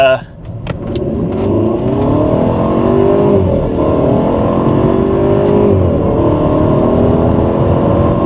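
A cheap Mercedes roadster already on the move accelerates hard from inside the cabin. A loud, continuous engine drone climbs steadily in pitch through the gears, with a brief drop in the middle.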